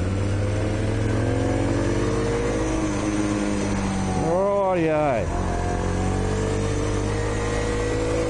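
A motorcycle engine, freshly overhauled, idles steadily and loudly up close, its pitch swooping up and back down in a brief rev midway before settling again, with someone talking over it.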